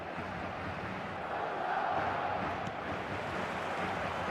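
A stadium crowd in the eFootball 2026 video game roars and cheers continuously, a dense sustained wash of massed voices that swells slightly midway.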